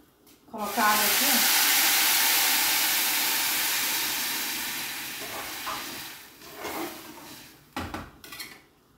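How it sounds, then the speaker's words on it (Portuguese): Loud hissing sizzle bursts out as boiling water hits frying rice in a hot pan, then slowly fades, followed by a few clinks of a utensil against the pot. "A água já tá fervendo aqui, mas eu vou botar no arroz."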